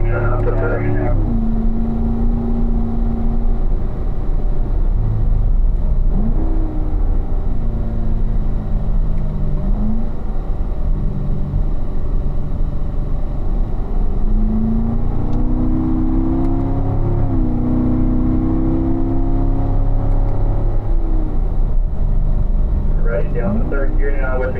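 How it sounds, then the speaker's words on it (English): A race car engine drones through a corner exit, its pitch climbing and dropping several times as it shifts up through the gears, heard from inside under continuous talk from an instructor. "So accelerate off of the corner. We're getting up to 4th gear right about at the apex point."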